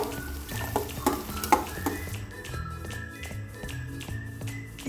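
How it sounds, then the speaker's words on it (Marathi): Onion and tomato frying in a pan, a constant close sizzle with several scraping stirs and light taps of the spoon against the pan. "इथे कांदा भाजत आला आहे तर त्यामध्ये टोमॅटो टाकून घेऊया."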